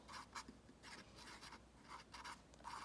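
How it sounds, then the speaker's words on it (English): Pen or pencil writing notes by hand on paper: short, soft scratchy strokes in bursts with brief pauses, close and quiet, no talking. "So I'm just going to write bad sense of smell."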